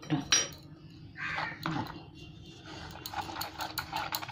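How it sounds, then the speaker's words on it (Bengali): Egg chilli batter is whisked in a bowl with a little water, giving quiet, close clinks and scrapes of a spoon against the dish in an uneven rhythm. "অল্প অল্প জল দিয়ে এটাকে গুলে নিচ্ছি"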